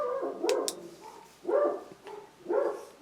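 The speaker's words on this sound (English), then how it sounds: "Probably hear my dog in the background saying that" A dog barks three times in the background, each a short, mid-pitched bark spaced about a second apart, in a room where an old Hallicrafters S-38E tube radio is being examined.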